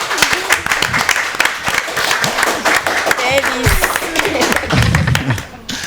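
Clapping from an audience after a speech at a school event, sharp uneven claps mixed with crowd noise and overlapping voices, fairly loud and continuous.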